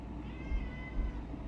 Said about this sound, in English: I need to go let my cat out.